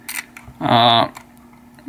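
An Olympus XA1 compact film camera's shutter button is pressed, making a brief mechanical click and whirring snap up close, with faint background sound before and after.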